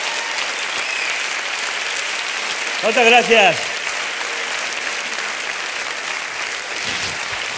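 A crowd at a Spanish comedy show applauds continuously and loudly throughout, a steady wash of clapping, while someone briefly speaks thanks over it near the middle.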